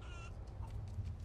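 A chicken in the Resident Evil 4 Remake video game gives a short, fairly faint cluck against a low, steady background hum.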